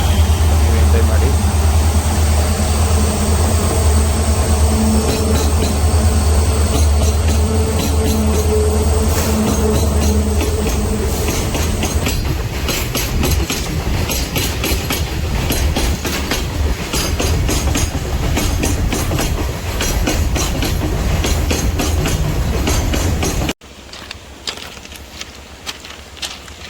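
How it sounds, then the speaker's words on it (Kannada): Train running on the tracks along the Bengaluru to Dudhsagar route, a loud sustained rumble with clickety-clack wheel beats for most of the stretch, then dropping abruptly to a much quieter hum near the end. "ಈ ಥರ ಟ್ರೈನ್ಗಳಂತೂ ಬ್ಯಾಕ್ ಟು ಬ್ಯಾಕ್ ಹೋಗ್ತಾನೆ ಇರುತ್ತೆ."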